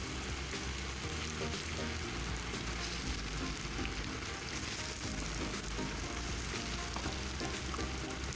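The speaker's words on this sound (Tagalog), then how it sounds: "I have here hot oil, so I fry now the chicken." Chicken pieces frying in hot oil for butter chicken, a steady dense sizzle and crackle that holds at an even level throughout with no voices.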